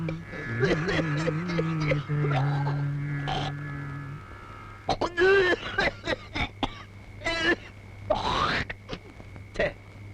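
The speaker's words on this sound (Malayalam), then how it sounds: "കുത്തി കുത്തി ഒരു ചുമ എങ്ങനെയാ മാറണേ?" Someone coughs several times in rough, hacking bursts, with a harsh throat-clearing and spitting sound near the end, over faint background chanting and a low hum.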